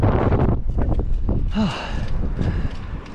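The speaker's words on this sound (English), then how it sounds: "Oh, it's windy." Gusty wind buffets the microphone with a loud low rumble, a brief whistle-like tone passing through midway.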